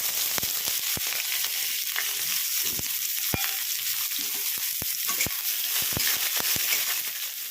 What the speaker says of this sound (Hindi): प्याज को फुल फ्लेम पे गोल्डन ब्राउन होने तक भूनेंगे इसको अच्छे से